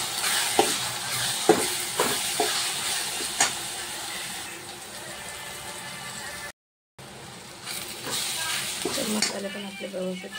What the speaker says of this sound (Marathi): मसाले पण आपले व्यवस्थित परतून झाले.